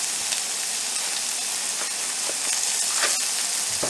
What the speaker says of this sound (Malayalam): ഇനി നമുക്ക് ഉള്ളി ഇട്ടിട്ട് നന്നായി ഇത് വഴറ്റിയെടുക്കാം